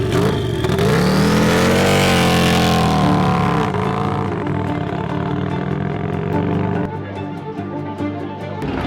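A race car speeds across the Bonneville salt flats during Speed Week, its engine roaring loudly with a rising, sustained pitch before fading into steadier engine noise as it passes into the distance.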